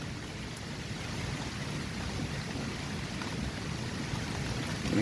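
Steady rain falls outside a house doorway as a storm rolls in, a continuous broadband hiss that holds even and fairly loud throughout with no voices.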